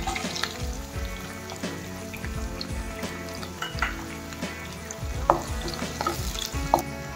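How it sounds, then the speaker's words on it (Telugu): Green chillies and onions frying in a pan for a Telangana-style methi chicken fry, with steady sizzling, scattered stirring scrapes and clinks throughout, heard up close. "ఉల్లిపాయలు వేస్తున్నాం."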